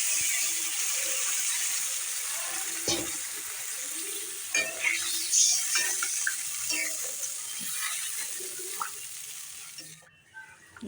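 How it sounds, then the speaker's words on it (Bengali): Water poured into a pan of fried spices for a fish curry, a steady hissing, sizzling pour that runs for about ten seconds before cutting off, with soft stirring knocks and faint talk. "হয়ে গেছে কষানো, ঝোল দিয়ে দিচ্ছি।"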